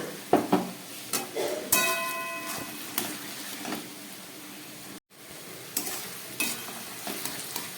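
Onions, spices, capsicum and tomato fry for a chicken curry, a crackling sizzle broken by sharp scrapes and clanks of a spatula stirring the pan, near and unaccompanied by speech.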